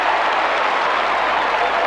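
A large Australian football crowd at Windy Hill cheers and applauds a goal during a 1990 Essendon versus West Coast match, a dense, steady roar of clapping and shouting with no break.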